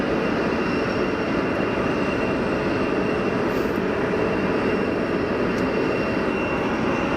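Wizz Air Airbus A320neo airliner engines at Geneva Airport, a steady broadband roar that holds at an even, loud level throughout with no speech.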